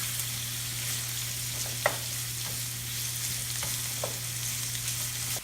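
Shallots and coconut frying steadily in a pan for a homestyle chicken curry, an even continuous sizzle with a low hum and a few faint stirring clicks; close and unbroken, no talking.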